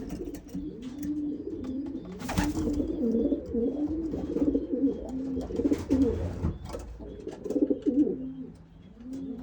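Racing pigeons coo in a loft in repeated throaty, rolling calls from several birds nearby, with occasional soft wing flutters and shuffling in between.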